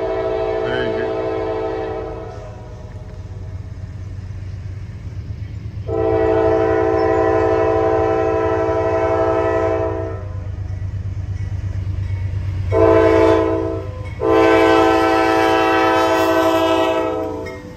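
A freight train rolls past near a river with a low, steady rumble, while its loud horn sounds in several long blasts and one short one.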